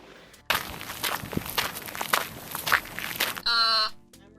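Footsteps crunching over gravel, a steady run of close, loud steps that stop abruptly, followed by a brief tonal sound at the end.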